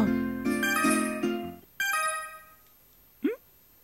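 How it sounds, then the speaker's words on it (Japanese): A phone rings inside the dating-sim game Tokimeki Memorial Girl's Side 3, giving a bright chiming ringtone in two bursts, followed by a short rising notification blip, with no talking over it. "あれ、電話。"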